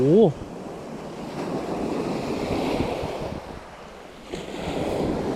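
Strong surf and gusting wind on a coastline during shore squid fishing in Thailand, a steady rushing roar buffeting the microphone, with a short voice sound at the start and the surges swelling and easing.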